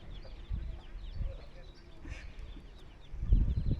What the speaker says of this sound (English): There's Daddy Duck.